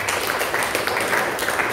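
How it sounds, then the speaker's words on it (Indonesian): Applause from an audience at a sermon, a brief dense burst of clapping that stays steady and fairly loud throughout. "Kasih tepuk tangan untuk kita."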